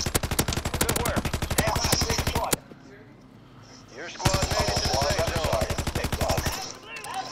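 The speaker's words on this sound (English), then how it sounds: "this LMG has a low recoil" A light machine gun fires in Call of Duty Warzone in two long, rapid, even streams of close, loud shots, with a short quiet gap between them.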